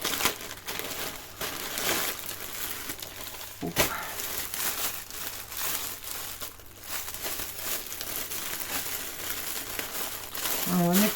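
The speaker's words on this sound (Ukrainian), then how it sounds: "Буду розривати вручну, щоб нічого не порізати." Taped packaging is ripped open by hand, a continuous close crinkling and tearing of plastic and tape, with someone talking over it.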